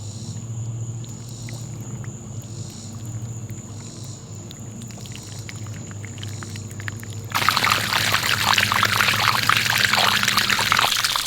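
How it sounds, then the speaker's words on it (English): Water gushing out of a newly installed irrigation line, a low steady flow at first that suddenly opens into a loud, broad rush of pouring water partway through and keeps going. "it's flushing out the line pretty good"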